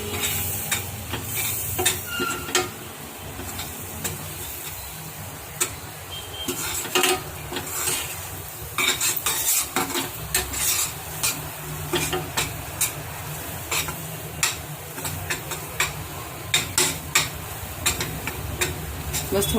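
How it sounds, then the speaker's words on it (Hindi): Flour stirred and roasting in butter and oil in a pan for chicken shami kabab, a steady close sizzle with repeated scraping and spoon-against-pan clinks throughout. "बटर और तेल के साथ अच्छी तरह से हम भून लेंगे"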